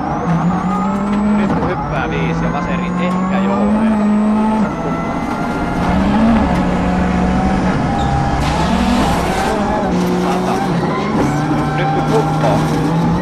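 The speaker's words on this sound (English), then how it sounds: "Let's get a driver's eye view of the stage from Marcus Gronholm's car." Onboard a rally car on a gravel stage of WRC Rally Finland 2002, driven by Marcus Gronholm: a loud, steady engine drone rising and falling through gear changes, with road and tire noise, under a co-driver calling pace notes.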